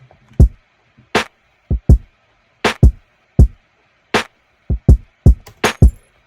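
A sparse drum loop of a snare, two kicks, a clap and a breaking bottle, with about a dozen punchy, separate hits in a loose rhythm, loud and dry against silence.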